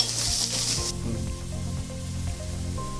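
Dry chilies sautéing in a pan give a steady, close sizzle and crackle that starts bright and loud, then settles into a softer, even frying hiss with no talking.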